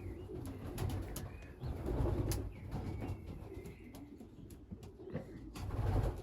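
Young racing pigeons at a loft coo softly and repeatedly in low, throaty murmurs, with faint chirps, occasional wing flutters and light knocks around them.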